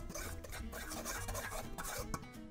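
Plain flour and salt stirred together in a stand mixer bowl for pizza dough, giving a close, steady dry rasping and scraping with no talk.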